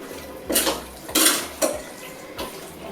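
A utensil scrapes and clanks against a pot while chicken biryani is mixed, giving three or four short metallic scraping strokes with pauses between them, close by and moderately loud with no talking.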